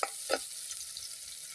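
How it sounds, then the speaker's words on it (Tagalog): Onions stirred in a hot pan, a broad steady sizzle with two brief scraping stirs near the start, fairly quiet and close, no talking. "Tapos lalagay ko na yung ating sibuyas. Yan mga Lods. Haluhaluin lang natin."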